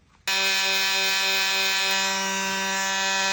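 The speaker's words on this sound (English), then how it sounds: "we're just starting with a 240 grit on here on the lowest setting and taking off that excess material" A wood lathe spinning a turned lidded box while it is sanded with 240-grit paper on the lowest speed, heard as a loud, steady, tonal motor whine that starts abruptly and holds.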